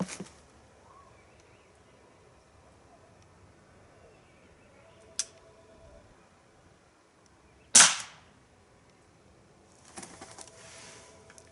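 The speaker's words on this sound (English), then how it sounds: "New CO2 cartridge in there, and all I'm shooting is the standard Daisy BBs." A Smith & Wesson CO2 BB pistol from Umarex, loaded with a fresh CO2 cartridge and standard Daisy BBs, fires two sharp, isolated pops several seconds apart, followed by a rattling clatter, with no talking.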